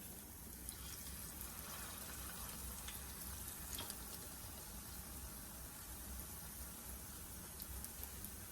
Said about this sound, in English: you'll see how they're frying up